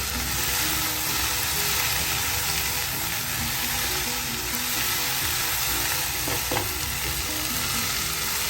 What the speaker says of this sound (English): The bhindi is cooking at high heat.